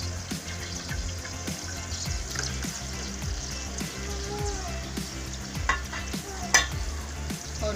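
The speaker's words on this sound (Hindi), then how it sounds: "अब मैं इसमें डाल रही हूँ प्याज," Chopped onion hits hot oil in a pan for palak chana daal, giving a steady close sizzle with repeated spoon scrapes and stirring strokes throughout.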